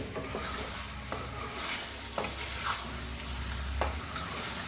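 A pumpkin halwa mixture being stirred in a hot pan, with a continuous sizzle broken by several sharp spoon scrapes and clinks against the metal, heard close and alone.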